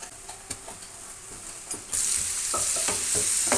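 Onion, ginger and garlic sizzle steadily in a hot pan, the frying getting louder and brighter partway through, with repeated scraping stirs of a spoon over the hiss and no talking.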